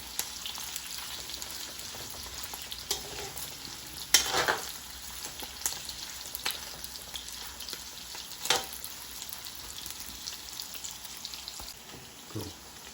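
Chopsuey meat frying in a very hot pan, with a continuous soft crackling sizzle and a few brief louder stirring scrapes, close up and with nobody talking.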